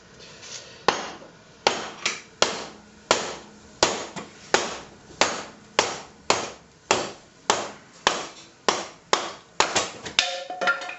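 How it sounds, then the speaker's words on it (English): A wood blank being split for turning a magic wand: a rapid series of about twenty sharp, loud tapping blows, close up, each ringing briefly and fading before the next, with a few quicker knocks near the end. "do one more split a little bit further back"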